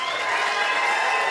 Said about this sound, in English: can we clap really loud for them?